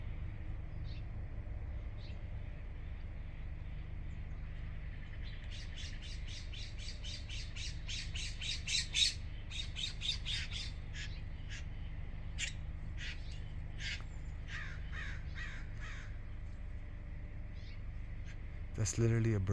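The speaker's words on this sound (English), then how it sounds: "That's literally a bird fight, guys." Two birds fighting squawk in rapid harsh bursts, several clustered calls midway and another sharp burst at the end, over a low outdoor rumble.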